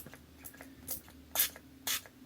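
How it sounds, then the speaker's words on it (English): Setting spray mists onto a face in several short hissing bursts, the last two strongest, quiet and close against a faint background hum. "But now I have the setting spray, which looks like a magic dream."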